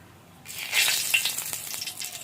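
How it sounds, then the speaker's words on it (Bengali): Bay leaf tossed into fully heated mustard oil as a tempering, a sudden burst of bright crackling sizzle that swells and then settles into softer spitting, close by. "এবার দিয়ে দিচ্ছি ফোড়ন প্রথমে দিয়েছি তেজপাতা"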